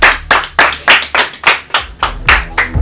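A small game-show audience gives a round of applause, about ten loud, distinct rhythmic claps in close succession, near and clear with no talking.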